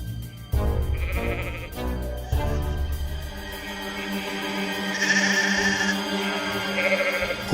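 Cartoon goats bleat in a children's fable, a string of wavering, nasal cries in several overlapping calls, some higher and some lower, loud and close with brief gaps between, and no speech.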